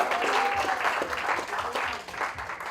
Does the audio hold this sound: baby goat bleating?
no